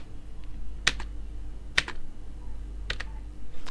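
Space bar on a computer keyboard pressed three times at separate moments, each a sharp, close click over a steady low hum, with no talking.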